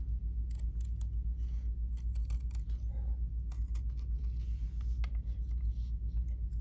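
Scissors with a duckbill blade cut appliqué fabric in short, quiet snips in irregular bursts against a low background hum, close by, with no talk.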